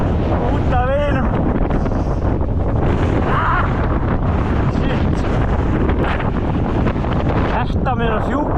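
Strong gusts of wind buffet the microphone on an exposed downhill bike course near Akureyri, a loud continuous rumbling roar with surging swells throughout.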